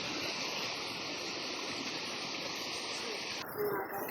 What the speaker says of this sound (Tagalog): Hindi talaga matawiran sa kabila. Kasi ang lakas ng agos ng tubig.